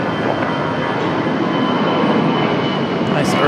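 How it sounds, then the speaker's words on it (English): Airbus A321 airliner taking off from runway 23 right at Raleigh-Durham International, a loud, steady broadband jet roar with a sustained hiss that holds evenly throughout, heard alone. "Nice early rotation for this A321"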